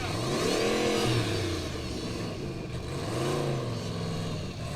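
An Icelandic formula offroad car revs hard on a hill climb, its engine pitch rising and falling in repeated surging sweeps as the wheels struggle to spin, loud and close.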